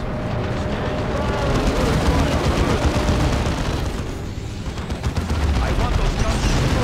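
Sustained battle din of tank guns firing in Warhammer 40k: Dawn of War II, a loud continuous roar of overlapping shots and blasts with no pause.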